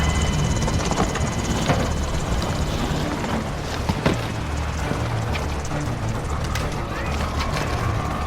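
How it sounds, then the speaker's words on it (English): A helicopter entry in the video game Modern Warfare, with a dense, continuous rotor-and-engine roar that fills the scene. Scattered sharp clicks and impacts come through, and there is no talk. "love the helicopter entries in this game"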